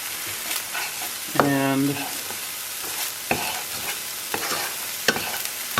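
Onions drop into a hot pan and sizzle loudly for about half a second of bright hiss, then settle into a quieter frying crackle with occasional small pops and clinks close by.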